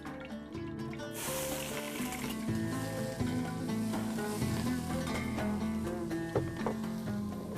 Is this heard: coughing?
no